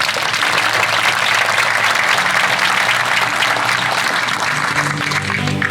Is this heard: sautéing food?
no